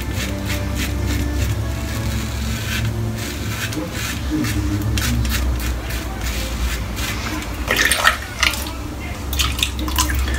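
Running water rinses a large shaving brush, with continuous splashing and dripping from close by and some faint background noise.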